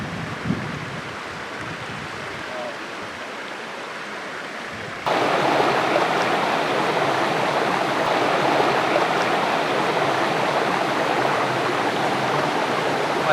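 Water flows steadily at the Revana Siddeshwar Tapobhoomi in Belagavi, a stream rushing close by as a continuous broad roar that grows suddenly louder partway through and then stays constant.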